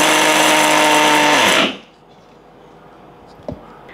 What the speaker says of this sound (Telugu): దీన్ని ఒకసారి మిక్సీ.